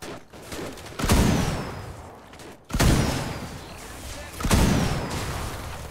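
Gunfire in Fortnite: Save the World, three separate loud bursts a second or two apart, each fading into a rumbling tail.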